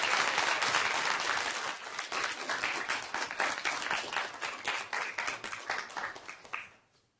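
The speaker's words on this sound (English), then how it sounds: "And a round of applause for them." Audience applause at a moot court competition final round, a steady crowd of many hands clapping continuously for about seven seconds, tapering off quickly at the end.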